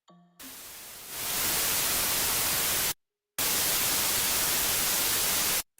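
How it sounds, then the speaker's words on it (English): A burst of loud broadband static noise, used as a sample in music production, swells in, holds harsh and steady, cuts off abruptly for a moment, then returns at full level before stopping. "I'm just gonna add some like noise sample, and it sounds like garbage."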